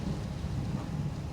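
A low, steady rumble of thunder mixed with the soft wash of rain, continuous and fairly close.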